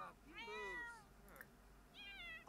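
A cat in The Sims video game meows several times, close and clear, with short rising and falling calls separated by brief pauses over a quiet background.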